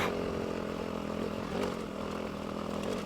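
Dirt bike engine running steadily while riding a loose trail, a continuous buzzing drone close and fairly loud, with slight throttle variation and no speech.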